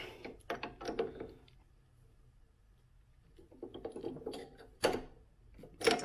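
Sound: chucking a cheap masonry bit into a drill

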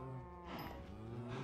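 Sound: cow mooing in Minecraft video game

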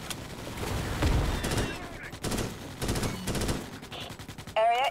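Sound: rifle gunfire in Starship Troopers: Extermination video game

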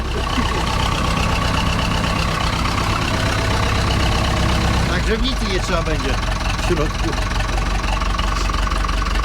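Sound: Ursus C-360 tractor engine running after overhaul

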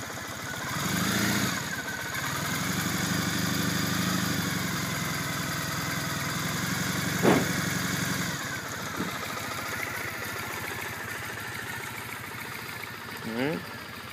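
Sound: 2008 Triumph Bonneville T100 motorcycle engine idling

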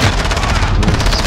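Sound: shotgun blast from a video game, Call of Duty

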